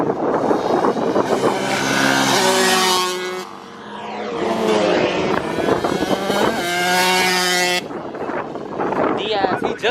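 On a lot, an engine of either a dirt bike or car revs hard and wails up and down in sustained bursts while doing donuts, loud and near, with people talking and shouting over it.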